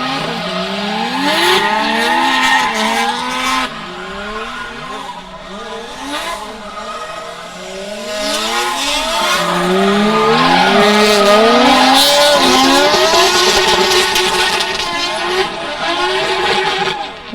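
Drift car on a full-track run at Meremere Drift Park during a drift competition, engine screaming loud and close with rising and falling revs through the gears, plus sustained tire squeal.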